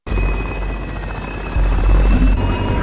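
Helicopter flying close by, a steady loud rotor thrum with a whining turbine tone, swelling louder midway as it passes.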